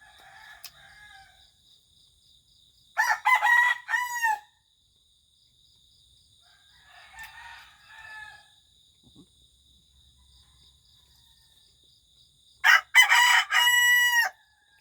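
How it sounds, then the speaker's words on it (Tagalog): A rooster crows loudly twice, well apart, with softer clucking and chatter from other birds in between against a faint insect trill. "Ang manok ko guys nasa loob."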